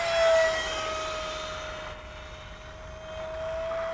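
Freewing F9F Panther electric RC jet with a 50 amp ESC at full throttle, a steady high-pitched ducted-fan whine holding one tone throughout, moderately loud and fairly close, with no talking.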